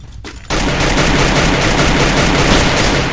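Pistol gunfire in the video game Free Fire erupts after a short quiet moment into a loud, dense, continuous barrage of shots that fills the rest of the moment.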